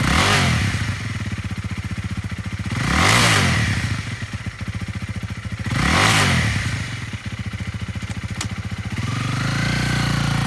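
A 2017 Honda Rebel 300 lightweight cruiser motorcycle idles with a steady thumping engine note, revved up twice in smooth swells before settling back, close and alone with no talking.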